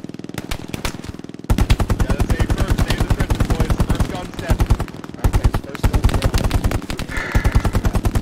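Machine gun fire in the WWII shooter Hell Let Loose, in long rapid bursts of heavy, loud automatic shots with brief pauses between strings, close and dominant, with faint voices in the background.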